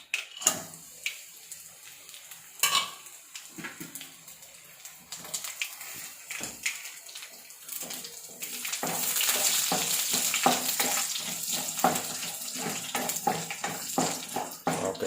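Coconut pieces dropped into hot oil with popped mustard seeds for a Kerala payar mezhukkupuratty, a few scattered clatters first, then a loud steady sizzle rising near the pan.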